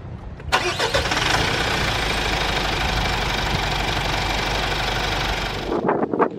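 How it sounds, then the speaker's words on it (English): A Mitsubishi Triton 2.4 pickup fires up at the push of a start button: a sharp crank catches at once into a loud, steady diesel-like engine rumble that holds for several seconds, close to the microphone, with no talking. "hit this engine start stop button to fire up the engine"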